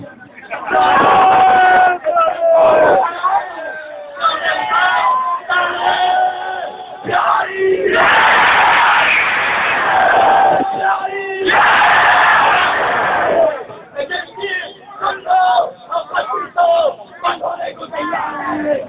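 A political rally crowd chants slogans in loud, rhythmic bursts, with surges of collective shouting between stretches where a leader's amplified voice calls out lines over the gathering.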